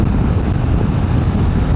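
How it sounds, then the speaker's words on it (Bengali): Strong wind roars into the microphone while riding a Himalayan 450 motorcycle on a road trip from Ben Nevis to Lochcarron in Scotland, a loud, steady low buffeting rush throughout with no talking. "এত হাওয়া বাইক ওদিকে নিয়ে চলে যাচ্ছে।"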